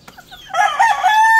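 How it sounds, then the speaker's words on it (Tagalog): Claret gamefowl chicks and chickens on a poultry farm give a brief burst of clucking and shrill peeping, close and fairly loud, rising over about a second and a half with no talk. "Tapos ito yung sisiw ng claret natin."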